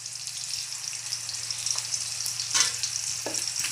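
Onions fry in a pan with a continuous, close sizzle and a low steady hum beneath, with a few brief spattering bursts.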